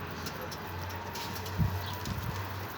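A hot-tempered, stubborn pigeon gives low, soft cooing close by, a steady murmur with one slightly louder swell partway through, over quiet background hiss.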